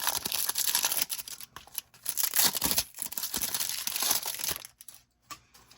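Cellophane wrapper on a pack of baseball cards being torn open, close crinkling and tearing in quick irregular bursts, fading to a few soft rustles.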